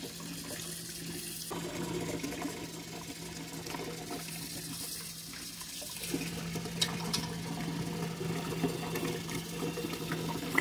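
Canning jars get washed in soapy water at a kitchen sink, with quiet sloshing, running tap water and occasional clinks of glass, faint and steady with a low background hum.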